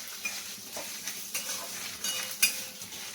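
Spice tempering for lau dal, a faint steady sizzle with light spoon scrapes and a sharp metallic clink near the end, heard alone without voices.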